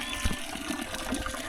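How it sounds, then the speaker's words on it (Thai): Water running from a spring in a rural village in the morning, a steady close gushing flow with a few splashy bursts and no voices. "น้ำไหลจากต้นน้ำ"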